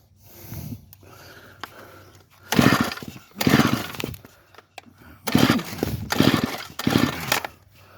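A string trimmer fails to start, giving two clusters of harsh, rasping pull-cord bursts with short gaps between them and no engine catching, close and fairly loud.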